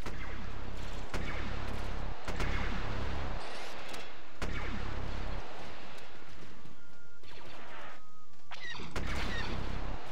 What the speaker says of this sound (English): I really like the, the sound of the weapon too.